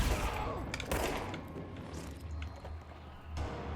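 Gunfire in the action game Control: dense, continuous bursts of shots and impacts rattle on for the full few seconds, loud and close with a steady noisy backdrop.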